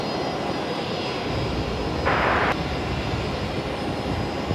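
A steady jet aircraft roar at Brisbane Airport, heard as a plane lands on runway 19 right, loud and continuous with a brief brighter hiss in the middle and no talking.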